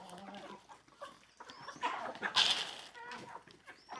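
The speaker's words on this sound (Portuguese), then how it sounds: "Pegar o milhinho para as galinhas." Farmyard chickens, including young pullets and a white rooster, cluck and squawk at close to mid range in several short bursts, with one brief louder call near the middle, over soft background rustling.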